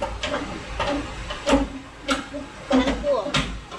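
A spare tire lowered from under a car by turning a lug wrench: close, evenly spaced mechanical clicks and clacks over a faint background.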